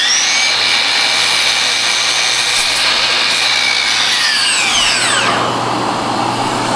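A power saw trims a small amount off mitered wood window trim, its loud, continuous, grinding whine filling the whole stretch with a slight pitch sweep near the end.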